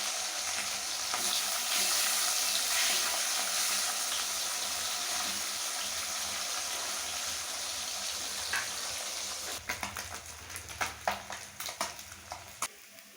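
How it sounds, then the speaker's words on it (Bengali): Pabda fish frying in hot oil, a loud, dense sizzle close by that runs steadily, then gives way to intermittent spits and pops with a few clattering stirs in the pan. "একসাথেই একবারেই ভেজে নেব মাছগুলো।"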